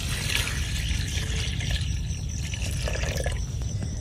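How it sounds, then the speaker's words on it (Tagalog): Stock poured into a pot of simmering beef with star anise and pepper for beef pares, a continuous close splashing and gurgling rush of liquid that stays loud and steady throughout. "Ibuhos na natin yung ating stock."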